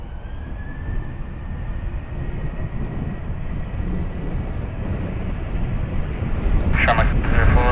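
At Dublin Airport, an aircraft taking off from runway 10 right gives a steady jet roar that swells louder toward the end, with radio chatter in the background.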